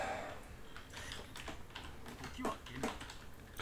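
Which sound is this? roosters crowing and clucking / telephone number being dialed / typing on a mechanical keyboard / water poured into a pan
typing on a mechanical keyboard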